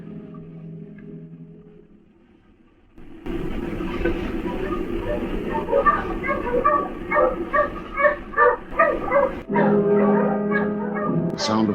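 Dogs barking and yipping in a radio drama search scene, with several dogs giving repeated close barks over a rumbling background after a quiet opening.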